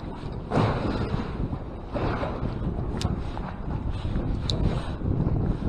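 Gusty wind buffets the microphone over open water from a fishing boat on a cold-front day, a loud continuous roar that swells and eases, with faint knocks and no speech.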